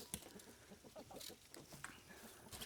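Backyard chickens cluck softly in a garden they have dug over, with quiet, irregular clucks and scratching sounds close by.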